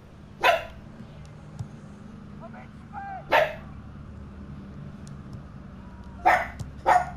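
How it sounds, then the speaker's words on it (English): Dogs bark from inside a house in short, sharp bursts, four or five barks spaced a few seconds apart over a steady low hum, with a few quieter squeaky sounds between. "You can hear my dogs back inside."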